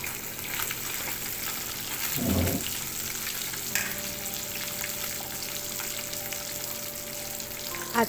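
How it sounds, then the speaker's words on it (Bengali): Pieces of fresh katla fish frying in a pan of hot oil make a continuous close sizzle, with a brief louder bubbling burst and a faint steady tonal hum underneath. "এখানে আমি মাছ ভাজা করছি"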